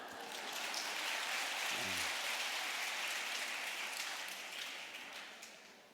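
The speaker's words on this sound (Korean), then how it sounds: "네, 동의하시는 분 박수." A church congregation claps in response at a revival Bible study, a dense, even wash of applause that swells and holds for several seconds before tapering off, with a brief voice near the start.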